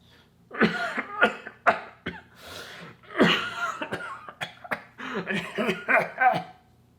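Someone coughing repeatedly on screen in the film Force of Nature, a series of sharp, dry coughs and throat-clearing bursts spaced irregularly across several seconds, fairly close and moderately loud.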